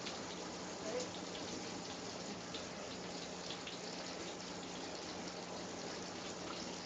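Tap water runs in a steady, faint gush as mushrooms are rinsed by hand in a home kitchen, a continuous even wash with no pauses.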